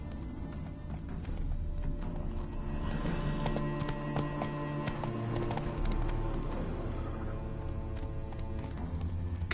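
Horse hooves clip-clop in a PS4 video game, a quick, steady trotting rhythm at moderate distance under layered game music and ambience, with no speech.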